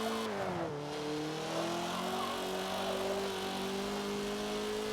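Race car in Forza Motorsport 7 flat out on the Mulsanne straight at Le Mans, its engine a steady high drone that climbs after a brief dip early on, with faint tire noise underneath and no talking.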